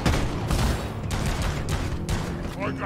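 Rapid bursts of gunfire from the co-op mining shooter Deep Rock Galactic fighting a swarm, loud repeated shots with brief gaps, while a player talks over the shooting.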